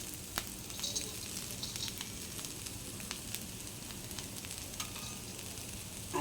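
Guar bean thecha sizzles steadily in a pan as peanut powder is added and stirred in, a continuous close frying hiss with light scraping taps, no voices.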